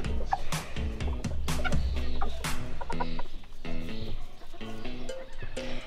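Polish crested bearded miniature chickens, a rooster and hen, cluck and chatter continuously in a lively, uneven stream of short calls, close and moderately loud.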